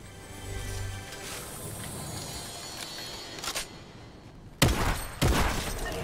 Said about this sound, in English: Shots being fired, that might beat me.